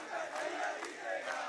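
A political rally crowd chants an election slogan in unison, loud massed voices rising and falling in two or three rhythmic bursts over a sustained roar of shouting.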